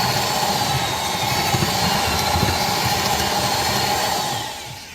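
A power tool enlarges a hole in a metal part during a car O2 sensor repair, a loud, close, continuous high-pitched grinding whine that holds steady for several seconds before winding down.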